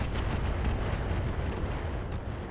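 Weapon fire slams into a mech in the battle game RogueTech, a loud, dense rumbling barrage of booming impacts that runs nonstop without any talk.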